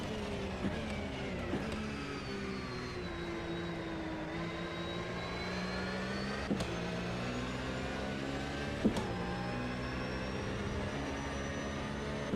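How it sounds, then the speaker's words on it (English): Engine drone of a Lamborghini race car at the IMSA 2024 Daytona round in the Automobilista 2 sim, a steady rising and falling whine of several cars running together, with sharp shifts or bumps breaking the continuous roar. "A Lambo's coming through."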